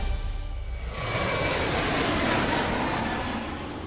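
A new Ukrainian aircraft at the Le Bourget air show, a rising broadband engine roar that swells after a second and holds steady as it passes, loud and unaccompanied by speech.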